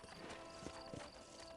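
A horse's hooves clip-clop at a walking pace in Red Dead Redemption, a few soft, evenly spaced thuds sitting faint under a steady background hum.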